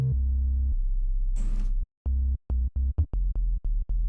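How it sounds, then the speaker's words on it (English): Low, pure synthesizer sine-wave tones with a faint overtone, sustained, then cut into short repeated notes broken by brief clicks and a noisy burst, for riddim music production. "Clean enough sine wave."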